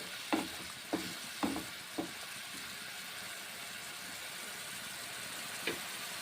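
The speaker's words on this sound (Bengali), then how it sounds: "মশলা কষে নিচ্ছি" Tomatoes and spices stir-fry in a wok for cauliflower curry with a soft, continuous sizzle. A few sharp spatula scrapes come in a quick cluster early, then one more after a pause. The sound is fairly quiet and close.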